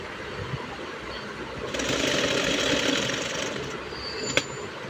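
A sewing machine stitches a gathered frill onto a small child's frock, giving a steady close motor hum and rattle that swells midway and continues to the end with a sharp click near the close.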